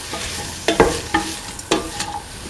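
Spices being stirred into a chickpea, snake gourd and coconut milk stew in a pan, with a few distinct scraping strokes and a soft sizzle underneath, close and fairly clear with no talking.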